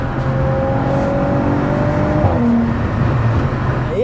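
An Audi B9 S5 with a hybrid turbo and 550 bhp revs loudly close by, a steady rising and falling engine drone with a tuned map for burbles, running continuously throughout.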